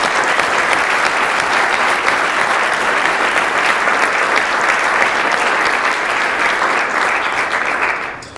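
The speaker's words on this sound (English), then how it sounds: "let's give them one more round of applause" A crowd at a company holiday party claps for award winners, sustained loud and close applause, dense and even for about eight seconds before tapering off at the end.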